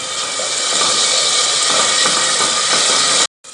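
Garlic and ginger fry in a spoonful of hot oil for chicken soup, a loud, close, even sizzling hiss that runs without a break and then cuts off abruptly.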